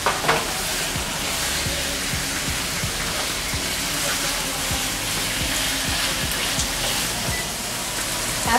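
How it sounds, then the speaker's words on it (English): Chicken for Cambodian-style cha kroeung sach moan sizzles loudly and continuously in a hot pan, with repeated scraping stirs of a utensil ticking through the frying. "After about 10 minutes of stir frying the chicken"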